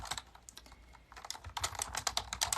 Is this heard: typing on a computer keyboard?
yes